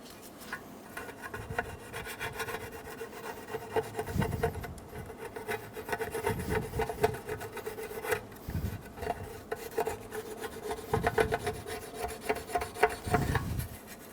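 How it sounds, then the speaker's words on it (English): A scraper rasps old RTV sealant off the transmission pan of a 2000-2007 Ford Focus, with repeated close scraping strokes in an uneven rhythm and no talk. "You can use a plastic scraper or a razor blade, go around and get it all off."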